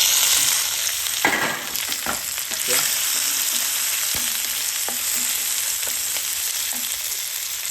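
Carrot, capsicum and onion frying together in a pan, a loud steady sizzle under scattered spatula scrapes and light knocks against the metal, heard close and without talk.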